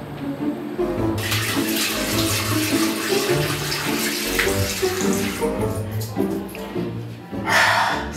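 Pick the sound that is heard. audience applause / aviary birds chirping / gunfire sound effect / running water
running water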